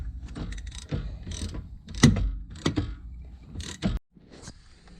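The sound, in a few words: loosening the BMW E30 brake caliper bolts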